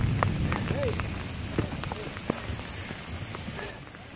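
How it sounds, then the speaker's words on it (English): Heavy rain from a thunderstorm on the Appalachian Trail hammers a nearby surface in a dense, continuous patter, with a few brief faint voice sounds mixed in. "Oh, it's pouring."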